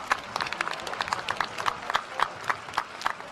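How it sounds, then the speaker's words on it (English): Sparse, uneven audience clapping at a spring commencement ceremony, individual claps standing out in a loose, irregular rhythm rather than a full roar. "Let's please give them another round of applause."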